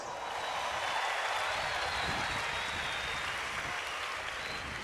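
Church congregation applauding during a sermon, a dense, even wash of clapping from many people lasting a few seconds at moderate volume.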